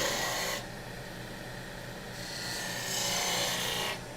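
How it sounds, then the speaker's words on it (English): A spindle gouge cutting a cove in wood spinning on a lathe, giving a steady raspy hiss over a low motor hum that rises and falls as the tool moves, with no voices. "I can keep that bevel in contact all the way when I'm creating a cove on work like so"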